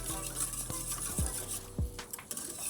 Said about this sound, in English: You don't really need to stir it too much.